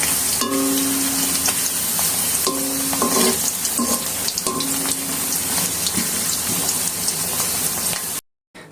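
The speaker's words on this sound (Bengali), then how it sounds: "এখন আমরা আমাদের আলুগুলোকে একে একে ভেজে নিব। অল্প কাটা দিয়ে ভেজে নিচ্ছি" Thin potato slices for homemade chips fry in oil with a dense, loud, close sizzle, plus a few tonal clinks from a utensil on the pan, before cutting off abruptly at the end.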